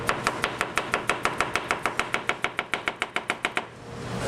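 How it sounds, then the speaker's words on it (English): Celery chopped on a cutting board with a Suisin Inox 210 mm gyuto knife, a fast, steady run of about twenty crisp, close knocks that stops abruptly. "We'll just do some chopping with it."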